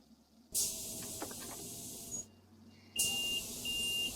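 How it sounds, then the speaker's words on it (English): Two sharp electronic Solaris Urbino 10 door-closing buzzer tones sound a couple of seconds apart in the OMSI 2 bus simulator, each over a hissing rush of air, with a quieter mechanical hum between. "why has it got a Solaris Urbino 10 door closing buzzer there?"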